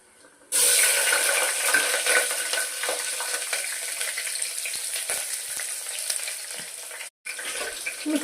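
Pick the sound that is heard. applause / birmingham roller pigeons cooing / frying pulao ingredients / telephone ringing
frying pulao ingredients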